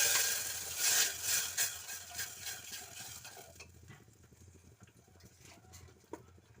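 Masala for a sprout curry fries in a pan, giving a close, crackling sizzle with stirring scrapes, loudest at first and then settling into a quieter, steady hiss.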